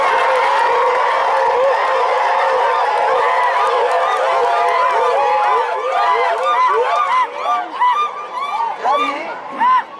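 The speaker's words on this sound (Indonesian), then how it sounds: "Boleh tepuk tangan Bapak Ibu sekalian" A crowd at an Indonesian community gathering cheers and claps, with dense overlapping voices, whoops and shouting that stay loud throughout and break into more scattered bursts toward the end.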